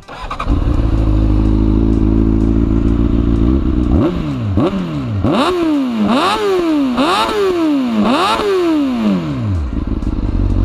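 Honda Hornet 600 (CB600) motorcycle engine idling steadily, then revved hard in five or six sharp blips that each rise and fall back, loud and close, with no one talking.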